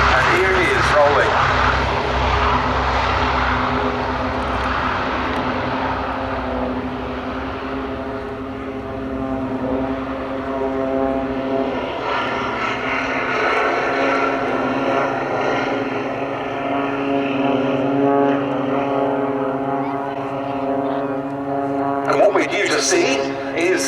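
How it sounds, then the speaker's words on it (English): Boeing B-17G Flying Fortress four-engine propeller bomber rolling at an airshow, its radial engines giving a loud, steady droning roar throughout with a slightly rising pulse near the end. "we got Boeing B-17G Flying Fortress Sally B started up in good order, and here it is rolling"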